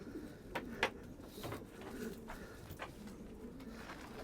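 Pigeons in a loft coo softly, with a few low throaty calls and scattered fluttering clicks over a quiet background.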